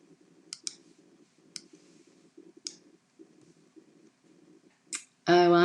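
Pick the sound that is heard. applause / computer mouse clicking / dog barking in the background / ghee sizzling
computer mouse clicking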